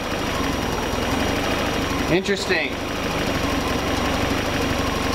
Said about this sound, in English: So let's start the car and see what happens.